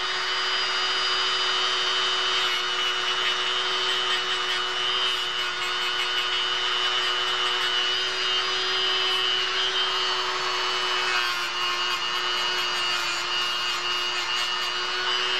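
A tool roughens the fiberglass surface of a model part so glue will grip, a steady abrasive whirring rub sustained evenly throughout without speech.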